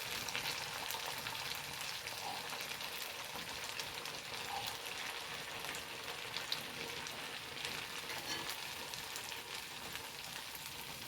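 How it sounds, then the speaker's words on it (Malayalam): Nei pathal fries in hot oil, giving a dense, continuous, loud sizzle that holds steady throughout at close range, with no voices. "എണ്ണ ചൂടായിട്ട് ഇട്ട് കൊടുക്കാം"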